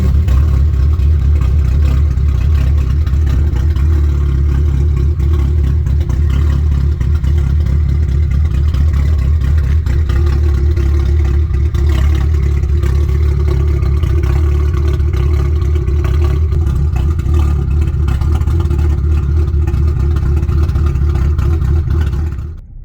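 A loud, rough BMW N54 engine with a ghost cam tune idles continuously with a lumpy, uneven rumble, its RPM fluctuating in rhythm throughout, ending abruptly.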